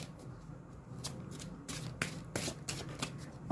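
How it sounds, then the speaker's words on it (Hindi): A tarot deck is shuffled close by in repeated bursts of crisp riffling and card slaps. The bursts come at an uneven rhythm against a quiet room. "let me shuffle your cards for my Sagittarius"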